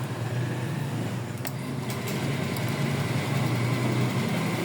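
A Honda Beat scooter engine, just fixed from an error 12 fault, runs at a steady, loud idle, a continuous close hum with a few faint clicks and no talk.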